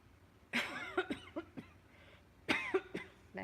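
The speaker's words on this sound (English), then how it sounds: "coughing" A person coughs in a room during a nighttime investigation, with two clusters of harsh, close coughs, each a rapid series of hacking bursts separated by a short quiet gap.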